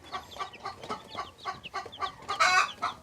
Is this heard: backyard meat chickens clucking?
yes